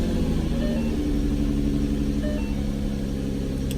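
A Ford Mustang engine, freshly serviced with an oil change, runs at a steady, rumbling idle close by, its low, even throb continuing without variation for a few seconds.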